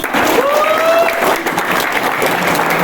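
Audience at a security workers' motivational event breaking into sustained applause, a dense steady clapping crowd with a few cheers, loud and continuous throughout.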